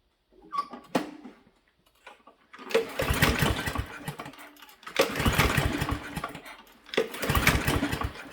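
Repeated pull-start attempts on a Husqvarna LC121P push mower with a Briggs & Stratton 725EXi engine: a faint cord pull, then three loud bursts of engine turnover, each roughly two seconds long, separated by short pauses.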